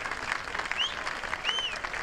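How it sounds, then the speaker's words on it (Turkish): An outdoor crowd at a traditional Turkish oil wrestling event in Şile applauds the head wrestlers, with steady, mid-distance clapping and faint high whistles above it. "Bir alkışlayalım baş pehlivanlarımızı"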